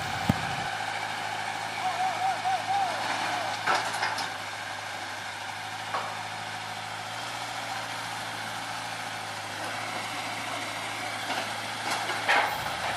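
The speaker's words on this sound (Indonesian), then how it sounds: "sekali lagi lokomotif menarik lori-lori kosong ini menggunakan rantai yang lumayan panjang" Old sugar mill locomotive at PG Kedawung idling and pulling a string of empty cane carts on a long chain, a steady low engine rumble with occasional metallic clanks and squeals, a little faint talk in the background.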